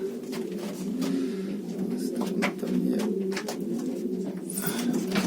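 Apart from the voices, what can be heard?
pigeons cooing during mating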